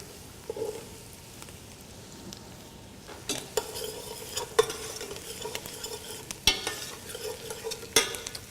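Carrots and celery tipped into a pot of translucent onions for three bean minestrone, with faint frying beneath a few clatters and scrapes of a spoon stirring against the pot.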